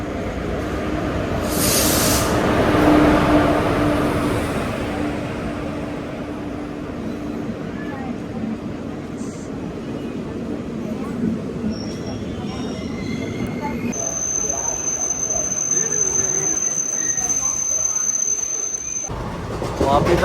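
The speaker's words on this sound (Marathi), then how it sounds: "वलसाड पॅसेंजर जी वापीला आपल्याला सोडेल." Valsad passenger train riding toward Vapi, a continuous heavy rumble of wheels on track from inside the coach, with a long high metallic wheel squeal rising in the second half.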